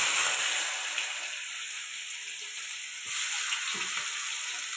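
Onion sizzling in hot oil with whole five-spice seeds in a pan, a steady frying hiss that continues on its own, with slight stirring scrapes.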